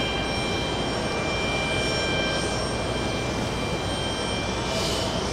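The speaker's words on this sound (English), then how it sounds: "All right, we have a departing flight. It's another JetBlue." A JetBlue jet airplane departs from JFK airport in New York, a steady broad engine roar holding at a constant level with a thin high whine, heard from a distance without talk.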